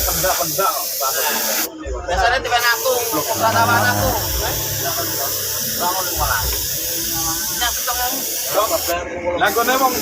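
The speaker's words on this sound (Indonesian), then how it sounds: "ini kita lanjut kita semprot cat warna merah candy-nya" A spray gun hisses steadily as it lays thin coats of candy red paint in a workshop, a loud continuous spray with brief pauses, under an ongoing voice.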